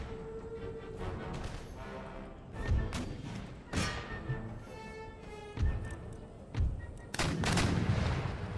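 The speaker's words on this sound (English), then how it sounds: "Canister shot." Canister shot from artillery in the strategy game Empire Total War: repeated booming blasts and heavy thuds over a continuous battle din, with several close, loud impacts spaced irregularly through the scene.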